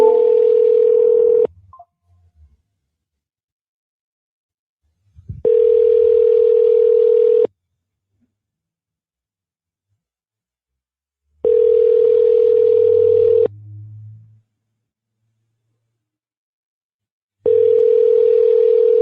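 A telephone ringback tone before a call goes to voicemail: steady, clean, repeated long tones of about two seconds each, separated by silences of roughly four seconds, with faint low noise between some rings.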